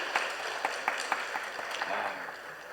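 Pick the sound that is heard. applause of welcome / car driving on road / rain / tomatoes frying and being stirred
applause of welcome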